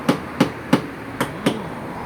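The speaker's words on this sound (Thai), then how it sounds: "อันนี้ก็คือตอกให้ แน่นแหละ แล้วก็ให้เรียบ" Paper is hammered down onto glue-coated wood to make it tight and smooth at a craft market stall. Five sharp, close knocks fall at a loose, uneven rhythm with quiet pauses between them.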